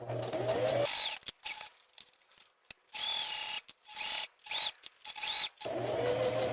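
A sewing machine stitching fabric with the presser foot lowered, running in short loud whirring bursts separated by pauses, close and alone.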